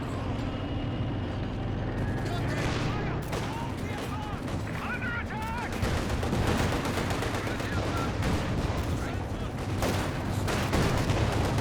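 Game gunfire rattles through a Company of Heroes 2 battle, with dense overlapping bursts and distant artillery-like booms running continuously under a commentator's voice.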